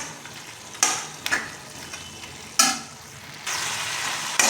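Chicken pieces for Sindhamani chicken stirred and fried in a hot pan, a steady sizzle broken by several scraping stir strokes, close and moderately loud with no voices.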